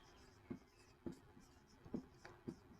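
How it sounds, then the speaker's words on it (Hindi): Pen writing on paper while a maths solution is worked out, heard as four short, quiet scratching strokes spaced about half a second apart, with no voice. "तो हल में सबसे पहले हम लिखेंगे माना रोहन की"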